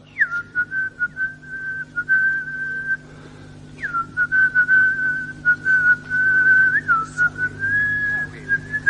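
A man whistles a tune, close and clear, with a long held note, a quick upward swoop, then a lilting, wavering melody over a low steady hum.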